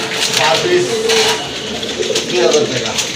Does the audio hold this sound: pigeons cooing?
yes